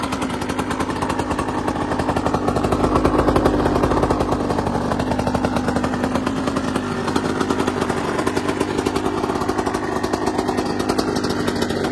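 A 2009 KTM 85 SX two-stroke dirt bike idles close by with a steady, rapid buzzing putter that rises briefly, then settles into an even idle.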